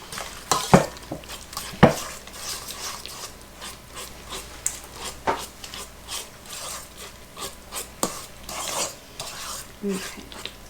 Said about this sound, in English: So you just mix these all together.